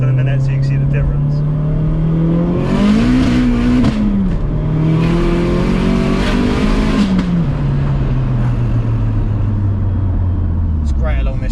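A modified 552bhp Vauxhall Astra VXR accelerates hard in low boost on a dual carriageway ring road, its engine note loud and close, climbing through the gears with brief dips at each shift. Someone talks over it.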